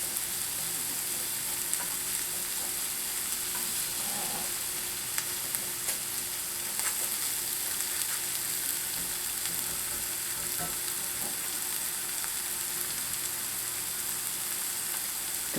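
Beef browns in a hot pan for stroganoff, giving a steady, close, unbroken sizzle with tiny pops and no talking.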